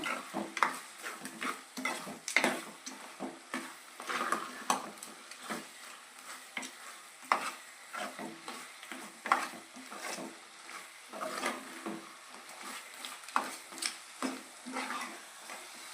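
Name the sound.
stirring chicken curry in a pan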